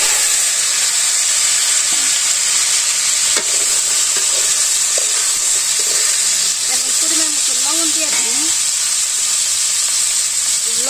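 Vegetable stalks and potatoes stir-fried in a hot wok in a village kitchen, a loud continuous sizzle and hiss with scraping stirs, while a voice talks briefly underneath near the end.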